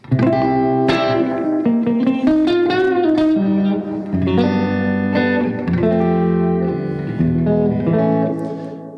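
Electric guitar run through an effects pedal, sustained processed chords and notes with a reverberant, slightly distorted tone, playing continuously and loud without speech.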